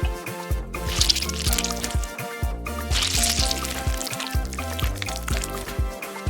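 Hot water poured onto instant ramen with its seasoning, making bursts of splashing and trickling liquid over rhythmic background music.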